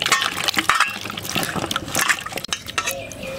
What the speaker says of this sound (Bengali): আমি এখন জল দিয়ে আলুটা ধুয়ে নেব।